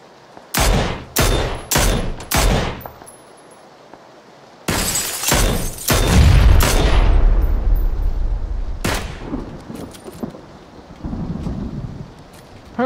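Gunfire in the battle royale game PUBG: Battlegrounds, a burst of four loud sharp shots followed by a heavy, sustained barrage of booming, echoing fire, then a single later shot and a fading tail over the game's ambience.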